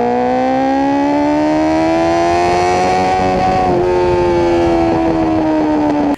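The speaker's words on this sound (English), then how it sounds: "the Super 4 sounds amazing both at idle and full song." A Honda Super Four motorcycle's inline-four engine revs loud and close, its tone climbing smoothly, dipping briefly and climbing again before easing off. No talking over it.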